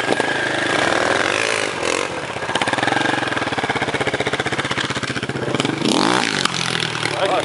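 Enduro motorcycle engine revving hard and continuously at close range, with rapid chattering pulses from the exhaust and a sharp pop-like backfire near the end, loud throughout.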